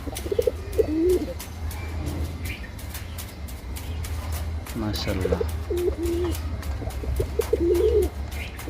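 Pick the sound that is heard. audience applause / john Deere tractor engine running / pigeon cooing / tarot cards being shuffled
pigeon cooing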